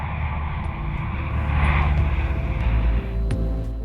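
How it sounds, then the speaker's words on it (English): A Coast Guard C-130 turboprop coming in for an unexpected landing with landing gear trouble, its engines a steady, loud, close roar that holds throughout with only slight swells. "This Coast Guard C-130 was forced to make an unexpected landing in North Carolina after suffering landing gear issues."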